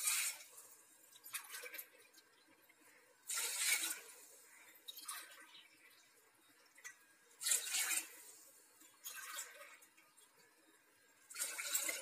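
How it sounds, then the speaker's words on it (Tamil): Water splashes into a pot of rice in several separate pours, each a short rushing burst with quiet pauses between, heard up close. "இப்போ தண்ணி ஊற்றலாம்."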